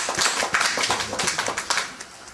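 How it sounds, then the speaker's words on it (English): An audience at a church service claps together in a dense, lively burst of many hands, close and loud, holding steady for a couple of seconds without voices. "Clap for her."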